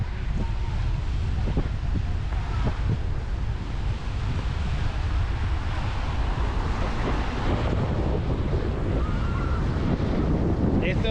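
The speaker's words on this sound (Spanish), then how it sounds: "Bueno, pues aquí tenéis el mar." Sea waves wash steadily onto Playa Langosta beach in Cancun's hotel zone, a continuous broadband roar of surf with gusty wind rumbling against the microphone throughout.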